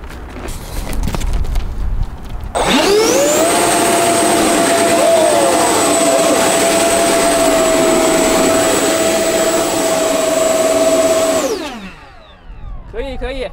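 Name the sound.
ducted-fan model Su-47 jet thrust test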